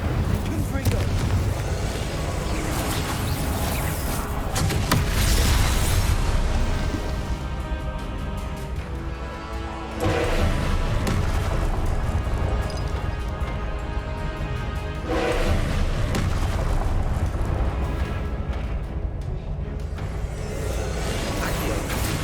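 Fiery spell blasts and explosions from Incendio and Confringo in the Hogwarts Legacy video game, a dense, continuous rumble of crackling bursts with louder surges, steady throughout over game sound.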